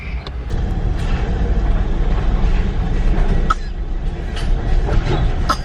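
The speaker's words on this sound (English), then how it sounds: "We're on our way now. Train's moving." A Eurotunnel train rumbles steadily while moving, with a low continuous roar and occasional faint clacks and creaks from the carriage.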